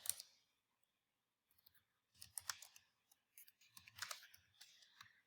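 Quick bursts of keyboard typing, close and fairly faint, come in short irregular runs separated by pauses.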